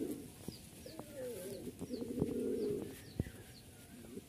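A pair of green Giribaz pigeons coo softly at close range, a low murmuring call repeated in short phrases with faint chirps and a few knocks around it.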